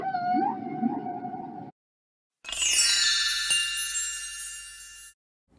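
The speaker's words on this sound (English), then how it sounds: "Whale." Whale calls played from an educational animal sound card: a low moaning, warbling call for over a second, a pause, then a long bright tonal cry with rising and sliding pitches, all clear and alone.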